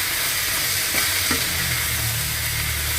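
Cucumber stir-fry with a little oyster sauce being stirred in a hot pan, a steady broadband sizzle with a couple of soft utensil scrapes near the middle, close and continuous with no talking.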